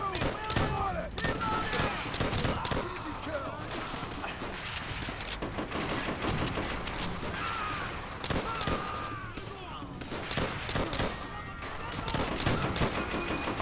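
Rapid machine gun bursts and scattered rifle shots fill a Call of Duty: World at War battle, dense and continuous throughout, with shouted voices mixed in.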